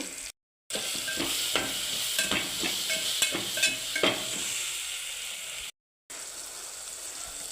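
Coriander powder frying with tomato in a pan, giving a steady sizzle broken by repeated scraping stir strokes, with two short gaps of silence.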